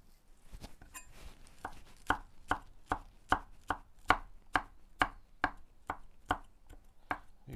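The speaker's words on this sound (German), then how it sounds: "In der Zeit gehen wir hier zurück und schneiden uns unsere Petersilie klein." A knife chops fresh parsley, stems left on, on a cutting board: a steady run of about twenty crisp, close knocks, slow at first and settling into an even rhythm, with no talking.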